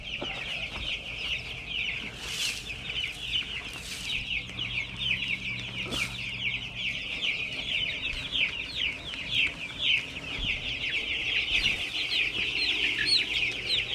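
Chickens and a rooster cluck steadily around spinning feeders on a farm, a dense continuous flock chatter at close range with occasional louder calls standing out.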